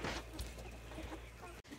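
Chickens and roosters cluck softly under steady outdoor noise, with low murmuring tones throughout and a brief dropout near the end.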